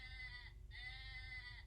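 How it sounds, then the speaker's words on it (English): A sheep bleats twice in quick succession, a steady, wavering cry with a short gap between the two calls, played as a clue during a children's farm-animal storytime. "It's the sheep."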